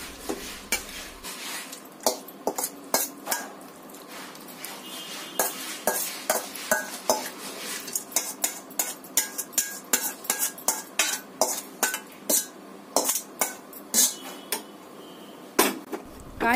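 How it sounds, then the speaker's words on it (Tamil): Cooked vegetables are stirred into soft rice in a pressure cooker with a metal spoon, making a steady run of sharp clinks and scrapes against the pot, close and fairly loud. "நம்ம இப்போ நம்ம இறக்கி வச்ச அந்த காய்கறியை இதில் சேர்த்துக்கலாம்"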